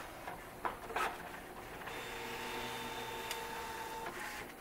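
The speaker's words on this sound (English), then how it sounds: "So I'm going to print a nozzle check" An inkjet printer runs a nozzle check with only the black cartridge enabled, giving a steady mechanical whir with a tonal hum and carriage clicks near the start, continuing at an even level throughout.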